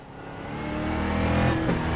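Heavy four-door saloon stock car in a racing simulator, its engine droning steadily and rising in pitch as it accelerates, loud and close with no talk.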